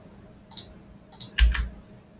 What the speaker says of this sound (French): J'utilise les flèches du clavier